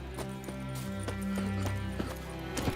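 Roach, the horse in The Witcher 3, clip-clops along with a steady rhythm of close, distinct hoofbeats over a low ambient drone and music.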